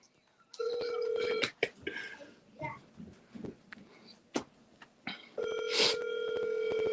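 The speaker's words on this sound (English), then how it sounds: "hurry up and answer this goddamn phone" A phone dials a series of beeping touch-tone digits, followed by sharp clicks and ringback tones, with someone talking between the beeps.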